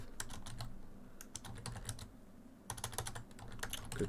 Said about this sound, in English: Good typing anyway.